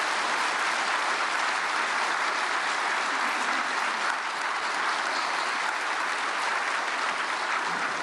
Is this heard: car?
no